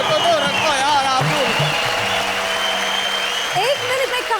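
An audience claps during a Hindi talk show on grammar. The applause is a steady, dense patter throughout, with a voice talking over it.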